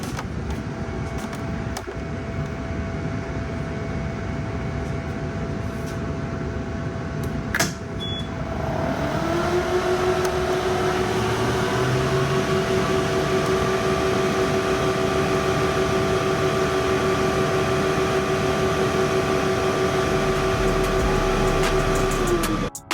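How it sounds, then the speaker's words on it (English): An xTool P2 CO2 desktop laser cuts clamped cardboard, giving a steady mechanical hum with whirring fans that rises to a constant droning tone, close and continuous, with a brief click partway through. "I wanted you all to hear the sounds of the machine"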